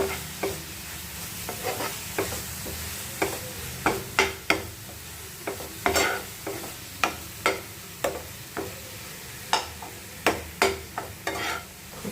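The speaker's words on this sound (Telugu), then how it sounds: "వేసుకొని నీట్గా కలుపుకుందాం. బెల్లం మొత్తం కొబ్బరికి కలిసేలాగా." A spoon stirs grated coconut with jaggery in a pan, giving a steady run of regular scraping strokes about every half second, close and clear over a faint sizzle, with no talking.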